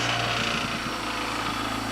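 A bench grinder spins up for sharpening a tungsten electrode to a point for TIG welding, giving a steady, fairly loud motor whine and hum that holds constant throughout, with no voices.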